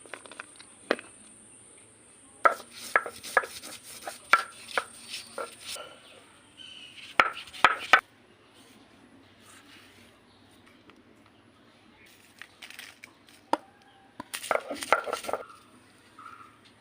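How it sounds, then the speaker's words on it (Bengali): Fried dry chillies, onion, garlic and spices being ground slowly by hand for a coconut bharta, irregular bursts of scraping and knocking strokes separated by quiet pauses, close and fairly loud. "এখন আমি আস্তে আস্তে এগুলো বেটে নেব।"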